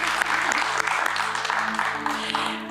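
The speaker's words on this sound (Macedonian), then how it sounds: "Еден аплауз за мене." Studio audience of a television game show applauding, a dense steady clatter of many clapping hands sustained for about three seconds, fairly loud and close, with faint voices underneath.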